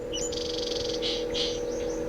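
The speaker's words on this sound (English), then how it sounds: "watching some little birds build a nest. They're so busy. Can you hear them chirping?" Little birds chirping while building a nest beside an old barn in the FMV game Tender Loving Care, light high tweets in short bursts over a steady low hum, fairly close.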